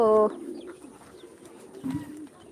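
A pigeon gives a short, close coo at the start, followed by a softer murmuring coo a moment later against a quiet background.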